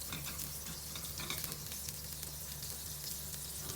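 Butter heating in a pan for pork mechado, a steady soft sizzle and crackle running evenly throughout with no voices.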